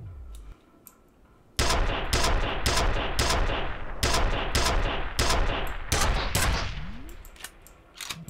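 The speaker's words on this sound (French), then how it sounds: "Ça m'envoie quand même des balles." Gunfire rattles at the player in the video game F.E.A.R. Extraction Point: a few scattered shots, then a dense, loud run of rapid bursts in an uneven rhythm that thins out near the end, with no voices.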